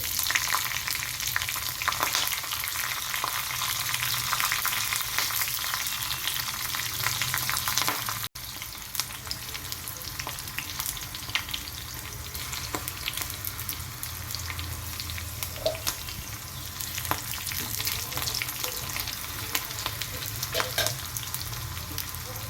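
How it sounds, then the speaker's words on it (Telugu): Mustard seeds, cumin and chillies frying in oil for a Telangana buttermilk curry: a long, close, continuous sizzle full of tiny popping crackles, with occasional stirring. "ఆవాలు జీలకర్ర కొద్దిగా ఫ్రై అయిన తర్వాత ఇందులో ఎండుమిర్చి, పచ్చిమిరపకాయలు"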